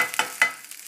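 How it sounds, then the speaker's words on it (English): Butter sizzling in a hot teflon pan on high heat, soft crackling pops over a faint hiss, brief and quiet. "As you can hear, we're sizzling away now."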